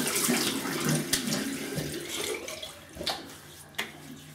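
A Seygus Zeppelin razor is rinsed under a running tap: a soft, steady stream of water splashes into a sink, with a few brief clinks and splashes as the razor moves through it.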